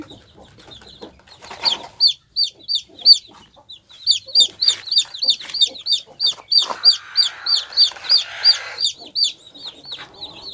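Chickens and chicks cluck and peep close by, a rapid run of sharp, repeated high chirps over softer hen clucks, loud and fairly continuous.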